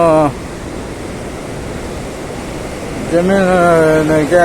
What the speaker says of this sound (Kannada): ಇಷ್ಟು ಕೆಳಗೆ ಮಾತ್ರ ಸ್ವಲ್ಪ ನೀರು ಬಿಟ್ಟಿದ್ದಾರೆ, ಪೂರ್ತಿ ನೀರು ಬಿಟ್ಟಿಲ್ಲ